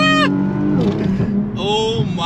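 An Infiniti Q60 on Nitto NT555R2 tyres pulls hard in first gear, its engine note sweeping steadily upward, loud and close throughout with a rising whine under excited shouting.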